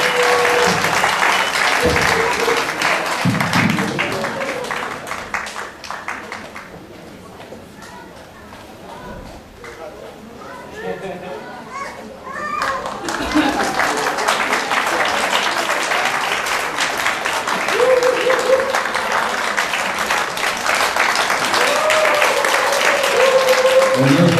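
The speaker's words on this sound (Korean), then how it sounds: "박수." A large church congregation claps loudly and steadily during an awards segment, fades into murmuring voices for a few seconds, then bursts into applause again.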